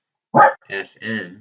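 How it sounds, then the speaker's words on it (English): A dog barks a few times close by, short sharp yelps mixed with a person speaking during a physics lesson recorded indoors. "Sorry about my dog."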